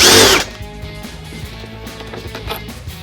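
A power tool spins loudly in one short burst while backing out 10 millimeter fasteners on a Jeep Wrangler JK air intake hose, then cuts off, leaving faint clicks and handling noises.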